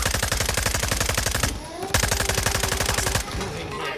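Video game shooter gunfire, loud rapid automatic bursts of machine-gun fire in close succession with brief pauses between them, up close and dominating the sound.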